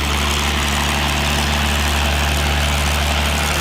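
P-51 Mustang warbird engine running up toward 2300 RPM: a loud, continuous, deep piston roar with a steady throbbing propeller drone, close by and unbroken throughout.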